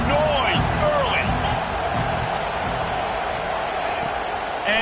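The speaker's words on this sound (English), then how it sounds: "This crowd bringing the energy and noise early." Stadium crowd in a college football video game, Ohio State at Washington, keeps up a loud, steady roar that fills the whole stretch with only slight swells.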